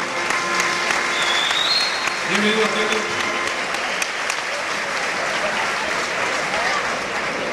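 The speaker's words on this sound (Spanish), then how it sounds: "Fuerte el aplauso" A crowd at a WBA world championship boxing event applauds steadily and loudly for the whole stretch, while an announcer speaks over the clapping.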